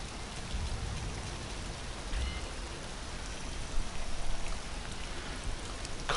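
Rain in the racing video game Gravel, a continuous soft patter and hiss on a surface that swells slightly near the end, with no voices.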